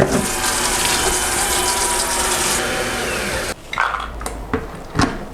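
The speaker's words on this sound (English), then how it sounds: "I'm going to fill this guy to the minimum line with water" Water gushes steadily into an Almond Cow soymilk maker holding half a cup of soaked soybeans, a continuous loud pour that stops abruptly, followed by a few faint knocks and handling sounds.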